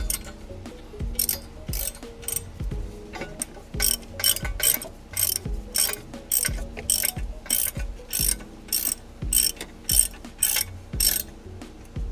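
A spanner ratchets on bolts while a turbo is fitted to a 1989 Volvo 740 turbo, giving close, crisp bursts of rapid clicking in repeated short strokes, with metallic clunks between them and no talk.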